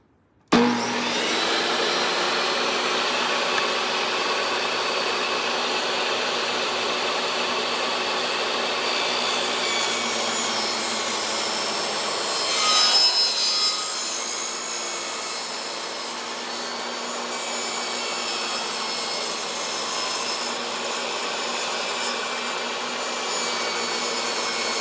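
A table saw rips a wood board into 3/4-inch strips against the fence, a loud sustained whine starting abruptly, rising as the blade cuts through mid-pass, then continuing to run steadily.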